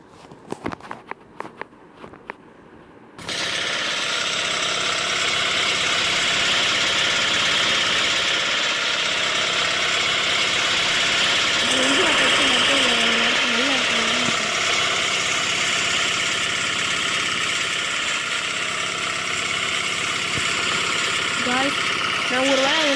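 Boeing 757 jet engines in the Roblox flight game PTFS give a loud, steady roar that starts after a few seconds of light clicks. Faint brief vocal sounds rise over the engine drone partway through.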